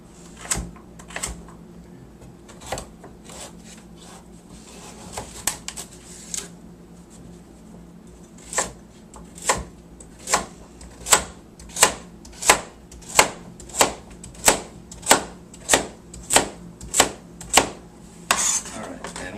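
Vegetables being chopped into bite-sized pieces on a cutting board, a run of sharp knife knocks that grows into a steady, evenly spaced rhythm, close and distinct.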